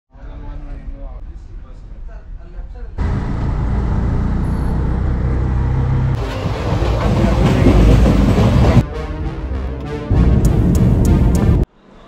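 Train travelling on rails, its loud rumbling roar rising in distinct stages, with rhythmic clatter and shifting noise close by before cutting off abruptly near the end.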